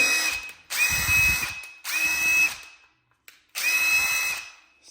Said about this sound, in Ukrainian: він забиває ваші саморізи із силою удара